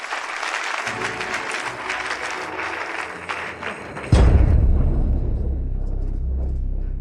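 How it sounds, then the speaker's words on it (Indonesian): Applause from wedding guests welcoming the bride, a steady dense clatter of many hands for the first four seconds, then a sudden deep rumbling thud takes over and continues loud to the end. "Sekarang mari kita sambut dengan tepuk tangan meriah."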